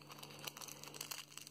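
Foil wrapper of a pack of Pokemon Sun and Moon energy cards crinkles and tears open up close, a continuous run of crisp crackling bursts with no talking.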